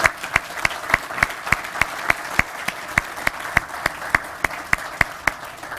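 Sparse, steady clapping at a biosolids facility groundbreaking ceremony, a handful of individual claps in an even rhythm, moderately quiet with no talk over it.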